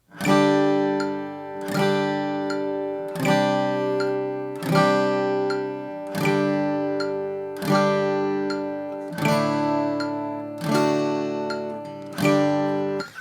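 Steady guitar strums, one every couple of seconds, each chord ringing out and fading before the next, played alone at an even slow pace.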